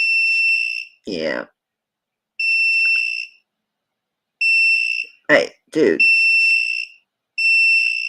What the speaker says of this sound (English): See if I can test these little ones without beeping to death